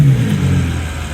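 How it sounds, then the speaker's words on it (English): Ferrari 812 GTS with a 6.5-liter V12 revving, a loud close-up engine roar holding steady through a brief burst. "There's that beautiful Ferrari engine."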